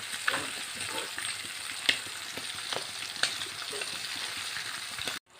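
Prawns fry in hot oil with a dense, steady sizzle, close up. A few sharp clinks of a utensil turning them break through before the sound cuts off abruptly.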